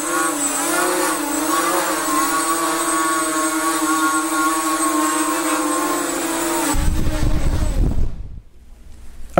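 Small brushless motors on an Eachine Falcon 250 FPV quad racer run steadily at close range with a smooth, rising whine, then cut off abruptly near the end.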